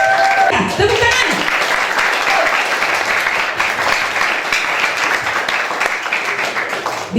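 Steady, dense audience applause at a school event on drug abuse prevention, welcoming the head of the police narcotics unit; loud, continuous clapping from many hands for about seven seconds, with a voice briefly audible near the start.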